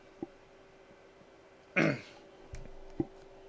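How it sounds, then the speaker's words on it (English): A quiet room with a steady electrical hum is broken by one strong, gravelly throat-clearing cough, then smaller short coughs and a brief burp-like grunt spaced apart, all close to the microphone. "getting some burps, getting some coughs."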